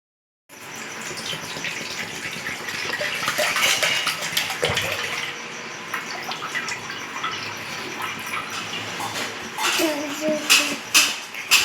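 Water gushes and splashes steadily while a kitchen floor and stove are washed, running continuously close by, with clatter and a few louder splashes toward the end.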